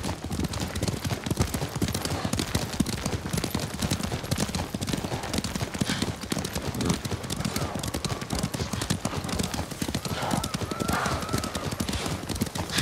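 Horses gallop in Ghost of Tsushima Director's Cut, their hooves beating a fast, steady clip-clop close by for the whole stretch, with a faint whinny and some muffled game ambience underneath.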